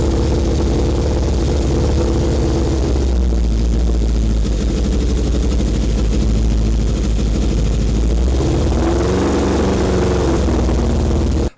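A Honda CB750 café racer motorcycle engine, running poorly on one cylinder, runs steadily at idle with a deep, continuous rumble; its tone shifts slightly as the revs change near the end.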